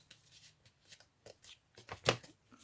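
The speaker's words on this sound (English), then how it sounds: "But if I just cut off a small strip, it can go in here" Scissors cut a small strip of paper or card for a handmade insert: a quiet, close series of soft snips and rustles ending in one sharper cut, with no talk.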